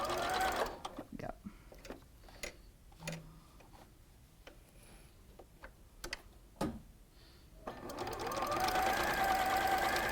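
A sewing machine stitches a quilt with a quarter-inch foot, running in short bursts and then a longer steady whirring stretch near the end, with speech in between.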